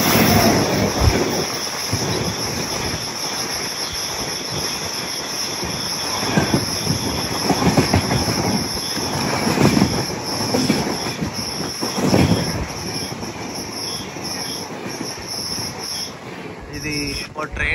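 A Chennai to Sainagar Shirdi express train rolls past at dusk near Kuppam, loud and continuous, with rumbling wheels, squealing metal and clattering cars, and crickets chirping steadily in the background.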